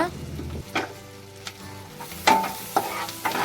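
Garlic and green chillies fry on a low flame under a soft, close sizzle, with a few sharp scraping stirs and a clink of a utensil against the pan.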